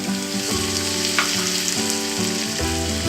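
Onions for pav bhaji, turning golden in a pan, sizzle steadily and close at hand as an even, continuous frying hiss with a faint stir now and then and no talking.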